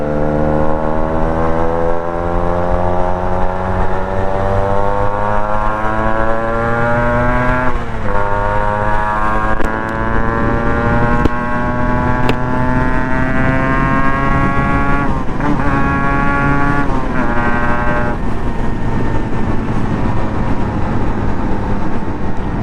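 A Yamaha RX-King motorcycle with a Y1 engine revved at full throttle on an open road, a loud two-stroke whine climbing in pitch through successive gears, each shift marked by a brief drop before rising again.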